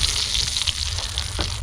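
Bacon sizzles in a pan over a campfire, a steady close hiss and crackle of frying fat with a low rumble underneath and a faint scrape near the end.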